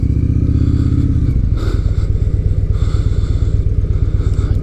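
A Victory Gunner motorcycle pulls away, its loud, close engine note dropping into a steady, rapid pulsing throb that continues throughout with no talk.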